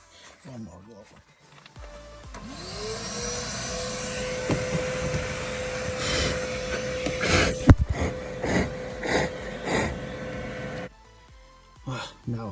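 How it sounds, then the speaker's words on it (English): A vacuum cleaner whirs up and runs steadily for several seconds beside the loosened fuel pump of a Rover 75 during fuel filter work, with clattering handling noises over it before it cuts off, and voices at the start and end. "Just one more go with the vacuum cleaner, I think."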